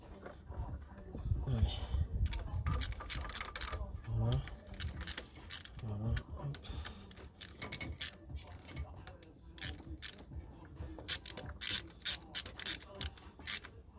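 A large ratchet clicks in fast repeated bursts while tightening a bolt during turbo assembly on an Opel Astra H 1.7 CDTI, with metallic tool clatter close by and someone talking throughout.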